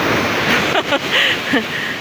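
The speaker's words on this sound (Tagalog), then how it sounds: "Nakakatakot yung alon." Rough, frightening sea waves wash loudly and close in a continuous roar, with a person's voice briefly heard over the surf.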